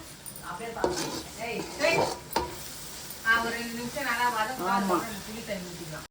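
Fish and tamarind masala sautéing in a pan for a home-style spicy fish gravy, a steady sizzle with stirring and pan scrapes, while someone talks over it throughout.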